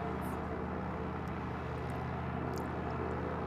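Piper Arrow III in X-Plane 11 accelerates down the runway for takeoff, its steady propeller-engine drone holding constant and fairly quiet from the cockpit throughout.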